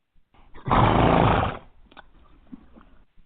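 A horse gives a short, loud, breathy snort-like neigh lasting under a second, followed by faint shuffling and small noises nearby.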